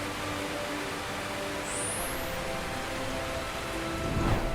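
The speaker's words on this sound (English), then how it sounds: "rain returned." Steady rain pours down after a long drought, a soft even hiss that fills the whole stretch, with a low roll of thunder rumbling up near the end.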